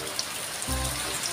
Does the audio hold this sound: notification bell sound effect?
no